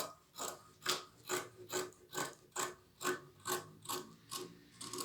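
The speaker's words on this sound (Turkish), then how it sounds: "A kısmına kadar olan yeri dört parça halinde kesiyoruz." Scissors cutting pajama fabric into pieces, about a dozen evenly spaced crisp snips in a steady rhythm, close and clear with no talking.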